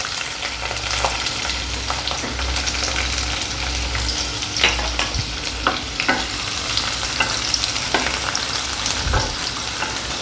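Chopped onion and garlic frying with lightly toasted rice in a pan, a loud continuous sizzle with repeated scraping and stirring clatter throughout.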